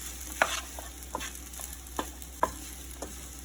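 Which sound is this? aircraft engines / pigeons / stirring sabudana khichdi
stirring sabudana khichdi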